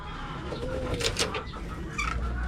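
Pigeons in a loft waiting to be fed, with soft cooing and brief wing flaps and rustles, fairly faint and close by, with no talking.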